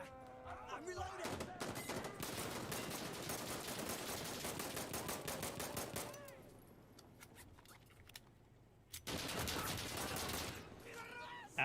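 Sustained automatic gunfire in the video game Insurgency Sandstorm, long rapid bursts of close shots, a pause with quieter movement, then another loud burst of fire.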